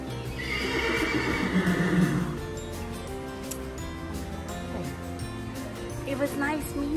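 A horse at an English show jumping stable lets out a loud, close whinny at the start, then hooves clip-clop softly, while someone talks warmly over it.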